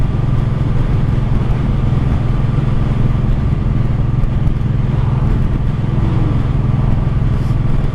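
A 1984 Honda Shadow 700 VT700C motorcycle, recently revived from a neglected state, runs steadily while being ridden, its low engine drone constant and close, mixed with rushing wind noise and no speech.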